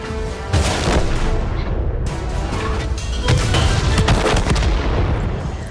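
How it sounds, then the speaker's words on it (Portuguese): Tank cannon blasts and explosions from the World War II-themed console game World of Tanks, loud, dense and continuous, with sharp booming impacts layered over rumbling debris for several seconds. "ficou de fato uma explosão muito legal"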